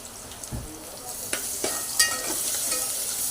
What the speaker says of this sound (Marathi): तर बघा आपण कांदा परतून घेतोय